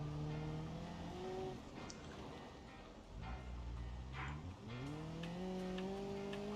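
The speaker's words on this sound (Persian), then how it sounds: "تو این پیکان میتونه این مسیر به این سختی رو بره؟" A Paykan car in the BeamNG driving game labors along a rough track, its engine droning and shifting pitch as it revs up, with tire squeals and skids over a continuous loud motor.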